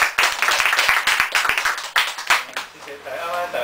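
An audience at a talk held at the Kaohsiung Dawutai theater claps together in a brief, dense burst of applause that tapers off after a few seconds.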